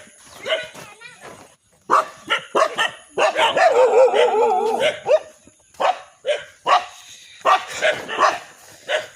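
Several dogs bark and yip in repeated bursts at an unfamiliar visitor in a residential area near a reserve forest, close and loud, with a stretch of sustained whining or howling in the middle.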